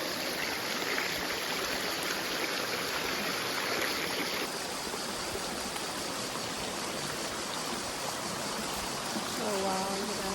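Cold stream water rushes steadily in Sicily, a dense continuous flow close to the microphone, with brief voices faintly mixed in near the end.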